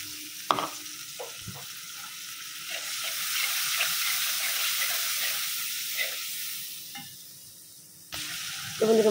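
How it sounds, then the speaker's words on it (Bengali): Spice masala with coriander leaves frying in a pan after water is added, a steady close sizzle and hiss with occasional stirring scrapes and clicks. "তো এখন হলো পানি দিয়ে ভালোভাবে কষাই নেব।"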